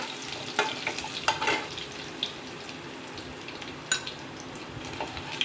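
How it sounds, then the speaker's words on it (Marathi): Local country garlic is stirred and fried with crackled cumin seeds in a pan, making a continuous hissing sizzle with occasional spoon scrapes and clicks, close and fairly loud. "आता लसूण घालून घेऊया"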